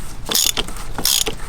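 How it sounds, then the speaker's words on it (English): Ratchet wrench with a 32 mm socket breaking loose the oil filter cap on an A90 Supra, two close, loud bursts of rapid clicking separated by a short pause. "you're gonna go right in here, get your socket on, and then I'm gonna break it loose."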